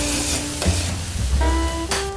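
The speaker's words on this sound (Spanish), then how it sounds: "Añadimos el ajo. Unos dos o tres ajos picados. Sofreímos también un poco." Chopped onion and garlic sauté in a pan, a steady sizzle underneath occasional stirring clatter and brief tonal clinks of a utensil against the pan.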